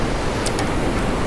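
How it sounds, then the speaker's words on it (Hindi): Fast-flowing mountain river on the Kedarnath trek, a dense, steady broadband roar heard close and loud with no voices. "पानी का आप बहाव देख सकते हैं कितना तेज़ है"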